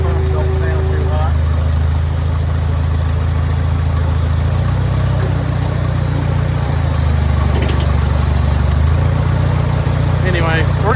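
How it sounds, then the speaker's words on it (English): A Farmall 140 tractor engine idles steadily alongside its running hydraulic pump, a loud low rumble that shifts pitch partway through, with faint voices briefly audible over it. "Hydraulic pump don't sound too hot."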